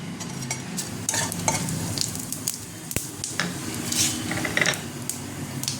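Whole cumin seeds and a torn bay leaf sizzle in hot oil for a Bengali bowal fish recipe, a steady close frying hiss with stirring scrapes of a spatula in the pan.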